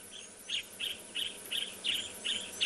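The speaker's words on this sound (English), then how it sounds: "I am looking for this yellow-throated apelus that's calling." A yellow-throated apalis calls on a morning safari, a regular series of about eight bright, chirping notes roughly three per second, clear and moderately close above a quiet background hum.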